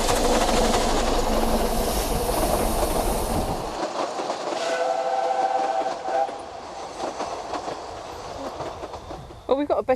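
A train passes on a railway line, loud rumbling and wheel clatter in the first few seconds before cutting away, then a quieter, more distant rail noise with a whistle-like tone and a faint voice near the end.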